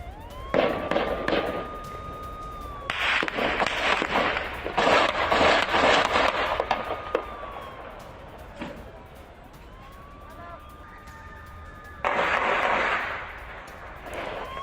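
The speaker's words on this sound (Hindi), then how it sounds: "अल फर्रा कैंप में गोलीबारी कैसे हुई है देखिए" Gunfire in Al Farra camp near Tubas, heard as bursts of sharp rapid reports in clusters, loud and echoing, separated by quieter gaps with a siren-like wailing tone beneath.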